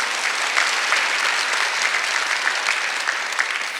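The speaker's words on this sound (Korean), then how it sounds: "박수 좀 세게 쳐봐요." A church congregation applauds loudly during a Sunday worship service, a dense, steady wash of many clapping hands, close and sustained without speech.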